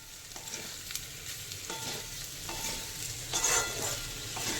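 Food sizzles steadily in a pan in a home kitchen while a utensil stirs and scrapes through it in several distinct strokes, close and moderately loud.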